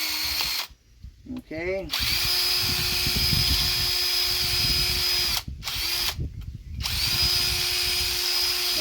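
Power drill boring a hole while making a lamp, a loud steady whine in two long bursts, broken by brief pauses and short speed changes, with a voice speaking briefly between runs.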